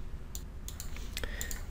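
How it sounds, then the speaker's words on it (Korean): Several quick, light mouse clicks on a button in the Chrome developer tools, spaced irregularly over a quiet room background with no talking. "요거를 클릭하시면 이게 실행이 되는 거예요."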